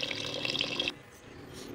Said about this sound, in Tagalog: Inugasan natin tapos lagyan natin ng panibagong tubig.